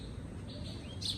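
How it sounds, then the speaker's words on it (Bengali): Small birds chirping outdoors in the morning, a few faint high tweets rising over low background noise in the second half, somewhat distant and brief. "কিচির মিচির করতেছে।"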